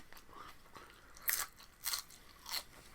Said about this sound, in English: I like chewing food.